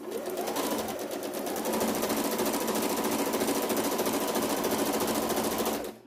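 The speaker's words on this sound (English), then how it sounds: "Now I'm going to sew the bottom chin seam. Again, lock stitching." Sewing machine lock stitching the bottom chin seam of a fabric face mask, a fast steady mechanical whir running continuously at close range for several seconds before stopping.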